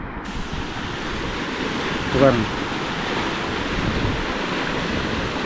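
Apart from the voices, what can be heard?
rushing floodwater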